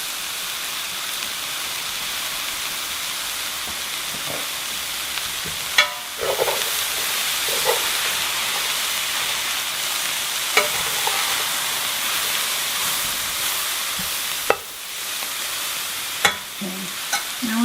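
Potatoes frying in a pan for a sausage breakfast casserole give a steady sizzle with soft hiss, and a few sharp clinks and scrapes of a utensil stir them now and then, close by.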